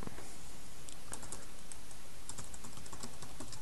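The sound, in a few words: typing on a computer keyboard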